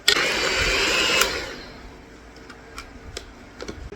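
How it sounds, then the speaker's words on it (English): A hand mixer whirs through condensed and evaporated milk for about a second and a half, loud and close, then cuts off, leaving faint taps and clicks. "Now with your hand mixer, you're gonna mix it up."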